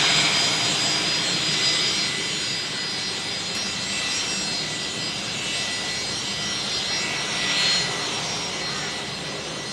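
An old Fokker airliner taxiing at Brisbane Airport, a steady broad engine whine and hiss with a high tonal whistle, holding fairly loud and even throughout with a slight swell near the end, with no talk over it.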